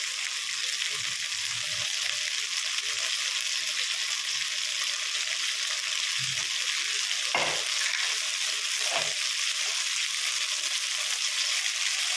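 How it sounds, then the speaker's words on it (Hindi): Eggplant fries in oil in a covered pan on a medium flame, giving a steady, even hiss for the whole stretch, with a few soft knocks and scrapes underneath. "बैगन को हम फ्राई कर लेंगे ढक के।"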